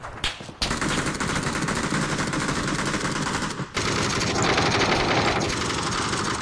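Rapid automatic gunfire from an MK14 rifle in a video game rattles almost nonstop, loud and close, with a brief pause partway through before the shooting resumes.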